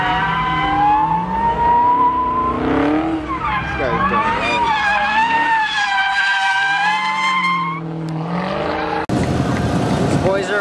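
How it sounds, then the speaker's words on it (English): Cars drifting at Roadkill Nights, including a wide-body Challenger and a Charger: loud, sustained, wavering tire squeal over continuous engine noise, with shifting pitches, ending in a harsher rush of noise. "I could sit here and watch these motherfuckers just drift all day."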